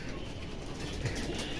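Chocolate racing pigeons coo faintly nearby, with a hint of soft wing flapping over a steady background hum.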